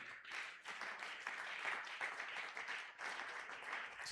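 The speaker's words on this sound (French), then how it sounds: "Est-ce qu'on peut acclamer très fort pour la gloire de Jésus?" A church congregation at a Sunday worship service applauds and cheers, sustained dense clapping for several seconds, heard from some distance at a low level.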